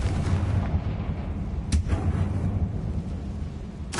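A dense, rumbling blast from the Confringo explosive spell in the Hogwarts Legacy video game, a sustained heavy low roar with a sharp crack partway through and another at the end.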